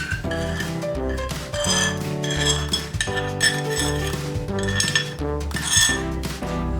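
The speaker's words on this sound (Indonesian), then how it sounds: "Dan aduk kembali adonan hingga merata." A spoon clinks steadily against a bowl while brownie batter is stirred, bright repeated scraping and ringing strokes that sit close and fairly loud.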